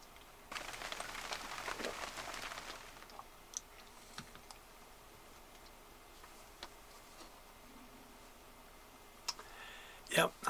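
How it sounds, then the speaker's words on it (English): Rain patters harder on the roof of a moored narrowboat on a murky day: a dense, hissing wash of drops builds over the first few seconds, then thins to scattered ticks and clicks, with a brief sharper rattle near the end. "It is beginning to rain a little bit harder now."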